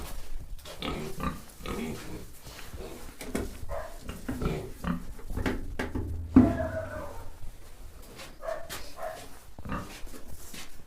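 Three pigs grunt and snuffle repeatedly at close range on a farm, a busy run of low oinks with occasional squeals, a dog barking faintly among them.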